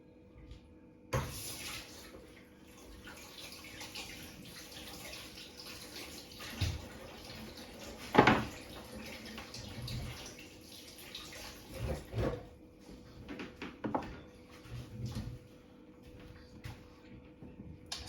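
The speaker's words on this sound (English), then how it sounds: "let's just give these a quick wash" Pumpkin and carrot are washed under a running kitchen tap, giving a faint, steady splash of water broken by intermittent knocks and clatters as the vegetables are handled nearby.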